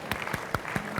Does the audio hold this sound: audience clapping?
yes